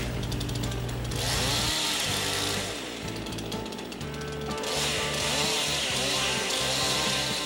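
Chainsaw cutting scriber relief in a log for a saddle notch on a log cabin, a loud continuous snarling engine with the pitch bogging and rising as the chain bites, steady throughout with no talk.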